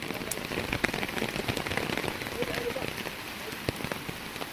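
Floodwater of a river in Tirunelveli rushing steadily past, a broad continuous wash of churning water carrying coconuts and mangoes along, with scattered small splashes throughout.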